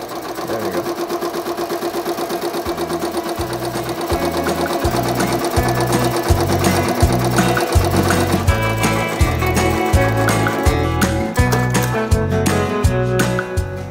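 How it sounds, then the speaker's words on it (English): A home embroidery machine stitches a cutwork napkin design for Thanksgiving, running alone and up close with a steady, rapid mechanical chatter and repeating needle thumps that grow slightly louder and more pronounced partway through. "we're gonna hit start and it's gonna bring the hoop back in and then it's gonna do the next stitch."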